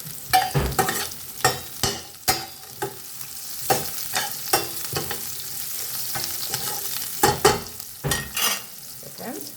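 Curry leaves, green chillies and dried red chillies fry hard in hot oil in a pan, giving a loud close crackle with sharp bursting spatters, irregular pops and a constant sizzle beneath.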